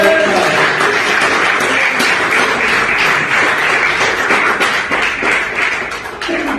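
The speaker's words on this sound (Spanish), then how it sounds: "denle un aplauso al Señor Jesucristo." A church congregation bursts into sustained applause, dense and loud, many hands clapping together for several seconds before tapering slightly at the end.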